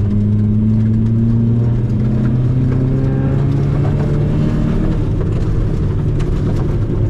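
A Peugeot 206 accelerating on the road, heard from inside as a loud, steady engine drone whose tone climbs gradually, with rising whine over road rumble.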